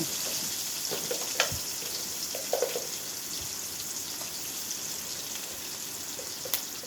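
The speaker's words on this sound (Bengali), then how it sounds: "পেঁয়াজগুলো ছেড়ে দিয়ে একটু লাড়াচাড়া করব।" Onions sizzle steadily in a pan with a soft, constant hiss, broken by a few light clicks and scrapes as they are stirred now and then; no one speaks.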